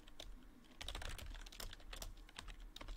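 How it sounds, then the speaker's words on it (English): Close, steady typing on a computer keyboard while writing HTML code, a dense run of crisp key clicks with a few pauses and no speech over it. "oh no, we gotta type it out"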